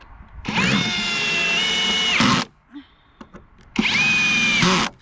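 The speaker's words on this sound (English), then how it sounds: "we need to use this one here on the edges, and the screwdriver and the screws" A power screwdriver drives screws during garage construction, two long loud whirring bursts each ending with a clunk as the screw seats, separated by a pause with a few small knocks.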